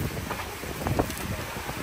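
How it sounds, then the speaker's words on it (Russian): Tropical downpour driven by gusting wind, a broad rushing roar with buffeting bursts near the microphone and brief louder surges, no speech. "тропический ливень"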